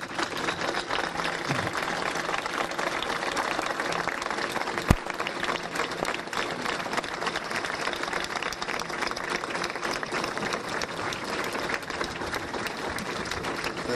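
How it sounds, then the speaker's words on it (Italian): Large crowd at a memorial gathering applauding in remembrance of a victim, loud and continuous clapping held steady for many seconds without a break. "Io inviterei intanto ad un applauso a ricordare"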